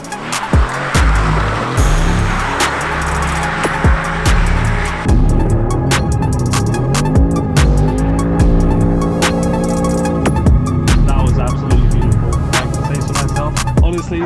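A car drifts sideways on a slippery, cold, rain-soaked street, its engine revving loudly and changing pitch as the tires hiss and slide over wet pavement, continuous and close.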